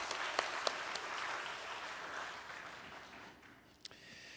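A church congregation at a Sunday worship service applauds the choir, a soft, fairly distant wash of many hands that gradually thins and fades, with a few sharper claps standing out.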